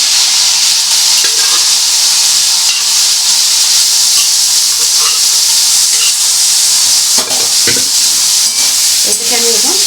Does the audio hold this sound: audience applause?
no